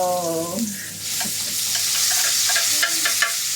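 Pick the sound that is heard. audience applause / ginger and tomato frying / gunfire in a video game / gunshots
ginger and tomato frying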